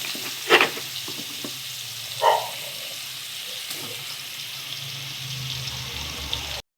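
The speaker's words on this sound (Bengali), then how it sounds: "মাছগুলোকে আমি ভালো করে দু পিঠ করে ভেজে নেব" Rohu fish pieces frying in hot oil in a wok, giving a soft, steady sizzle with a couple of brief utensil clinks near the start.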